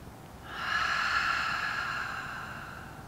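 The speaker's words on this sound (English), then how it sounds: "Take 2 more deep breaths." During a yoga session a single deep breath is drawn and slowly released through the nose, soft and close, swelling and then fading over a few seconds.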